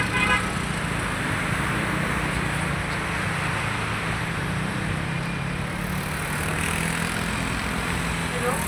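Steady highway traffic rumbles near a crossing on the way to Antipolo Cathedral, with passing vehicles and a faint horn, a continuous moderate wash of road noise.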